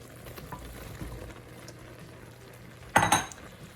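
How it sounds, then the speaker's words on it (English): Bulgogi beef with vegetables frying in a pan, a steady close sizzle with scattered clinks of utensils and a sharp burst of louder hissing near the end as food hits the hot surface. "now that our meat is well underway to being cooked, I'm going to add the vegetables"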